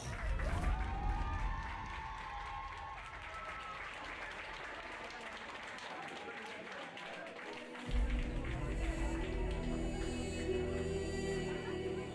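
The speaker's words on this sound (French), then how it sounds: "je vous demanderai d'applaudir la remise des prix Equifun Club Poney Cadet Junior" A crowd gives sustained applause for the prize-giving of a pony club cadet and junior equestrian competition, a dense continuous roar of clapping with a voice over a loudspeaker at the start and a louder surge near the end.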